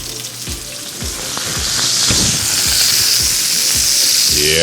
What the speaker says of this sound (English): Sizzling goodness.